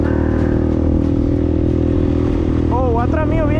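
A delivery rider's motorcycle at night idles loud and close with a steady rumble, then revs as it pulls away; a voice talks over the engine.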